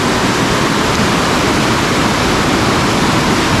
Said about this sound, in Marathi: इकडून पाणी येते ना तर बारवी डॅममधून येते